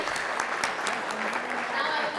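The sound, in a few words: audience applause at award ceremony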